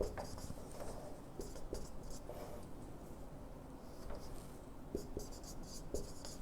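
Scratchy strokes of writing on a board during a lesson about extinct volcanoes, a string of short taps and scrapes in a quiet room with a faint background hum.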